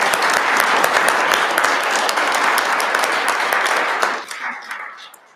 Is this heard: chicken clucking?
no